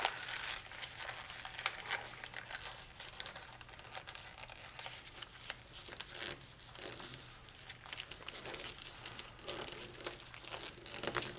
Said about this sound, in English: We're going to sink this other cluster of layers. We're going to fold it to the right.